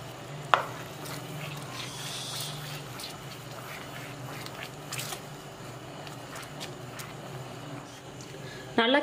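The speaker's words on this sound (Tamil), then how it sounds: "நல்லா கிண்டி விட்டுட்டே இருங்க" A spoon stirs tomato soup with fresh cream in a pot on the stove, giving a steady soft scraping and bubbling hiss, moderately quiet, with a sharp clink near the start and another at the end.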